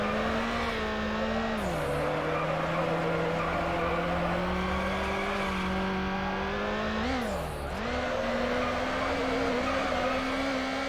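Car engine in Need for Speed Underground, a high-powered street racer revving loudly and steadily with pitch dips as it swerves and skids, continuous and close with no talk.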